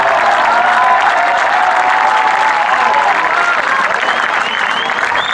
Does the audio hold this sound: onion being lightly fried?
no